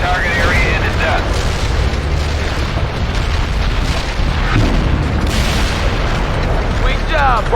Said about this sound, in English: Artillery barrage turned the target area into dust.